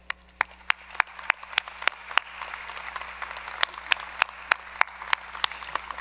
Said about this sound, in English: let's please have a round of applause for the family and friends who are here today